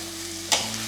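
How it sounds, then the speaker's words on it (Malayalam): Rice being sautéed on high flame in a pan for veg pulao: a steady frying hiss with a short, sharp stirring scrape partway through, close and with no voices. "ഹൈ ഫ്ലെയിമിൽ കുറച്ച് നേരം അരിയിട്ട് ഒന്ന് നന്നായിട്ട് വഴറ്റിയെടുക്കും"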